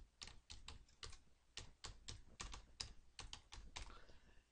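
Steady, evenly paced keystrokes on a computer keyboard as an email address is entered, a quiet close-up run of sharp clicks with no talking.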